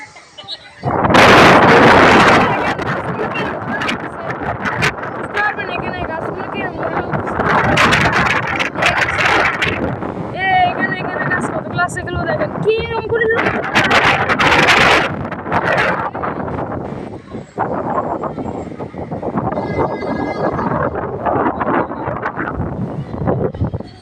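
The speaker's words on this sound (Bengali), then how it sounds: "এরকম বাতাস আমি কখনো মারতে দেখিও না খাইও নাই" Strong outdoor wind roars and buffets the microphone in loud, rumbling gusts near trees and buildings, while someone talks over it almost continuously.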